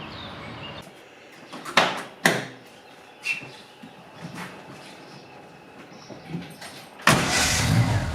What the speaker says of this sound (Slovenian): je malega Fiata vžgal. Ga zapeljal iz garaže.